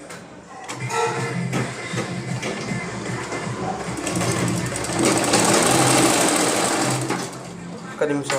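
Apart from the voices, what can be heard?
sewing machine stitching shorts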